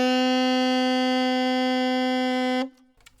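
Saxophone sustaining one long, steady, loud note with strong harmonics for about two and a half seconds, then stopping abruptly, played solo and close.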